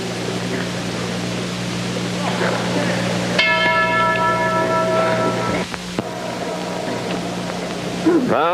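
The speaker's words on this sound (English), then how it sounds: "This is Gil Cadilli standing in his corner waiting for the bell, and he need wait no longer." Boxing ring bell at a 1955 fight signalling the start of a round, a bright metallic clang ringing out over a steady arena murmur and hum, with a second strike a few seconds later.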